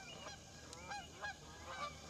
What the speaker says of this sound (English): some geese that serenade us